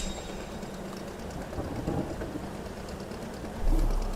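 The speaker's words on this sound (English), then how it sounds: "Oh, of course it's raining." Rain falls steadily at sea during a fishing trip on the Barents Sea. A dense, broadband hiss stays even throughout, with a brief louder rumble near the end.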